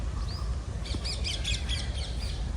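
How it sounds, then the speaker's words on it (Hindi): Faint, shrill parrot calls chirp in a quick series over a steady low rumble of outdoor background noise. "तोतों की आवाज़ें आ रही हैं।"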